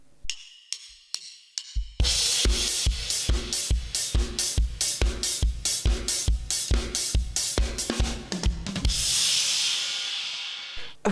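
Drum kit playing the intro of Foo Fighters' "Love Dies Young": sparse hits at first, then from about two seconds a driving full-kit groove with steady kick and crashing cymbals, ending on a ringing cymbal wash.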